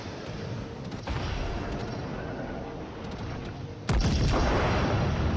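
Battleship main guns fire in World of Warships aboard the Fuso, with a loud sustained rumbling roar and a sharp, heavier blast near the end, dense and close.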